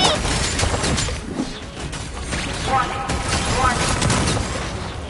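Gunfire and explosions from Genshin Impact combat: a dense, crackling barrage with bursts and bangs running throughout, loud and close, with game music and voices mixed in.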